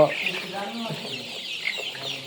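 Sonali chickens cluck softly in a steady, busy murmur inside a gassy shed, like a crowded indoor flock, with no clear individual calls standing out.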